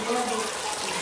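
Hot water pours steadily into a cooking pot of rice with a continuous gushing splash, fairly close and with no break.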